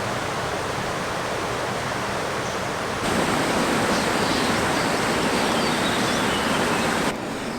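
A small waterfall cascades at the foot of sheer rock walls, giving a constant, dense rush of water. The sound is loud and steady, with a slight shift in level partway through and no voices.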